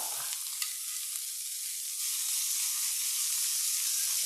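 Globs of melted onion and butter hit a hot frying pan for Irish colcannon, setting off a steady, bright sizzle with a couple of small pops, hissing continuously and growing slightly louder midway.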